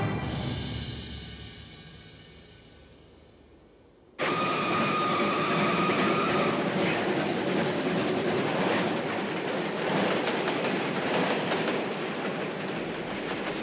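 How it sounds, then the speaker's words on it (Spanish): Crowded trains rumbling along rails across the Soviet Union in summer 1945, a steady loud clatter of railway wagons that starts abruptly after a fading passage and continues without letup, no voices. "unos trenes abarrotados atravesaban el territorio de la URSS"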